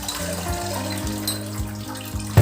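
Tap water runs in a kitchen while goat liver (kaleji) is being washed, a steady flow with soft splashing and a sharper splash at the end.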